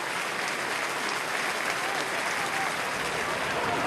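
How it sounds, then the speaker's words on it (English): A large crowd at a 2013 Galway versus Kilkenny hurling league match applauds in a loud, dense, unbroken wash of clapping that holds steady throughout. "Big round of applause here from the large crowd"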